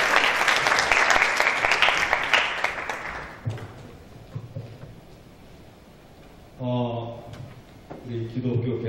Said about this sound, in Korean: 선생님들 감사합니다. 우리 박수 한번 할까요?